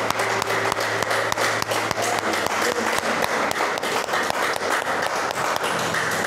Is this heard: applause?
yes